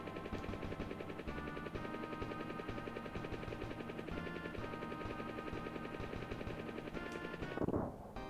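Enemy turrets fire at the player's aircraft in the video game Pilotwings, a dense, continuous stream of rapid rattling shots over steady game music, with a brief louder burst near the end.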